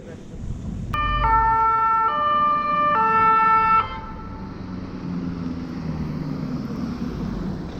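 Ambulance siren blaring loudly from a moving ambulance, a stepped multi-tone wail held for about three seconds before cutting off, leaving steady road and engine rumble underneath.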